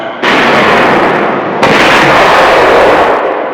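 A 2nd Armored Division tank fires its main gun during the World War II drive to the Rhine: two heavy, loud blasts in quick succession, each rolling into a long, roaring boom.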